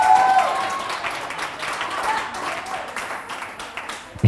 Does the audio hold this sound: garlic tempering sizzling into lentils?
no